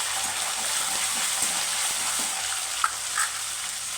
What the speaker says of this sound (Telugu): ఇప్పుడు లాస్ట్లో కరివేపాకు అయితే వేసుకోవాలండి